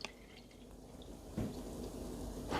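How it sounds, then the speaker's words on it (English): Whole milk poured into a jar, filled up to the neck: a faint, quiet liquid trickle and drip with a soft splash midway and a brief louder clatter at the very end, no voices. "So just pour in your regular milk."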